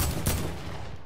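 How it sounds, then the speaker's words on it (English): One sharp, close shot of video game gunfire, a short burst that fades quickly. "Fuck it, I'm shooting him."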